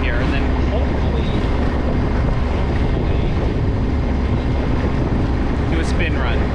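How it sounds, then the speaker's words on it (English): A sailboat's auxiliary motor runs steadily on open water during a club cruise, a continuous low drone mixed with wind buffeting the microphone and water wash. "I'm just gonna keep the motor on"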